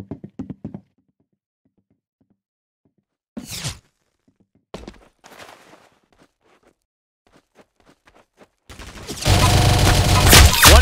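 Gunfire in a video game: a few sharp isolated shots and knocks spaced apart, then a loud sustained burst of rapid fire at the end, with no talking.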